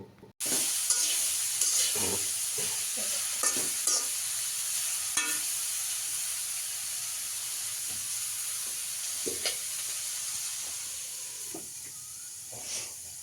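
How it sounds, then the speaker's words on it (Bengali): Sliced bitter gourd drops into hot oil in a wok and sizzles loudly, with repeated scraping stirs over a steady hiss that fades slightly toward the end; no one speaks. "তারপর আমরা এই পর্যায়ে তিতা করলাগুলো কড়াইতে ছেড়ে দিব।"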